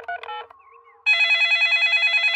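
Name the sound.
telephone being dialed in a cartoon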